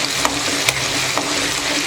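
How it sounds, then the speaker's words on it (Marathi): Ginger garlic paste with half a spoon of salt stirred in a hot frying pan: a continuous bright sizzle with a few soft scraping strokes of the spoon, close and steady. "बघा, असं ढवळून आपल्याला व्यवस्थित घ्यायचं आहे।"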